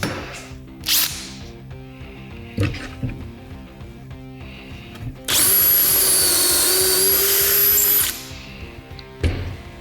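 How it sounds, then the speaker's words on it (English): A power drill whines loudly for about three seconds, drilling a pocket hole with a clamped Kreg jig, bracketed by clunks and handling noises of tools being set up. "drill the pocket hole."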